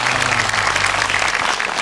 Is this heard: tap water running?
no